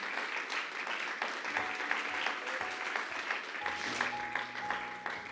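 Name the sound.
congregation applauding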